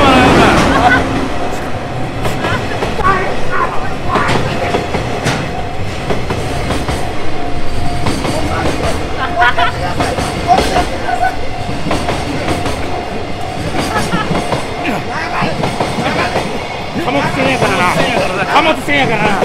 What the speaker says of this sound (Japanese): 電車も来るわ